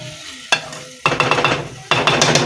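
Samosa filling stirred in a pan with a utensil, close up: one sharp scrape, then two bursts of rapid scraping and clattering strokes over a low sizzle of frying.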